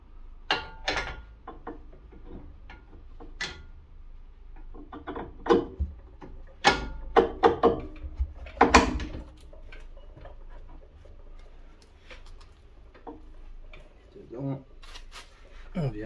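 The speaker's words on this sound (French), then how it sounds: "ici pour bloquer l'axe et serrer donc l'écrou" Wrench tightening a self-locking nut on an axle, the shaft held still with a flat spanner: scattered metallic clicks and ratcheting ticks come in irregular bursts, fairly close, with brief talk between them.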